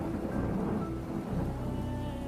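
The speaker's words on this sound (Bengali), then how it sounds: "অনেকক্ষণ ধরে যে এক ঘেঁসুড়ে বৃষ্টি পড়ছিল" Steady rainfall with deep rolling thunder, a storm sound effect in an audio story, low and continuous with no voices.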